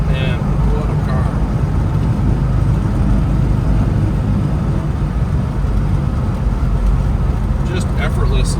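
Steady low drone of a 1972 Plymouth Roadrunner's engine rolling through traffic, continuous and close, with someone speaking over it.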